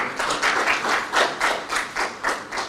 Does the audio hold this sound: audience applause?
yes